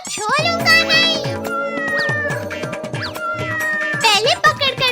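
A cartoon cat in a Hindi animated comedy meows repeatedly, loud, voiced, high-pitched mews in quick succession, mixed with character speech.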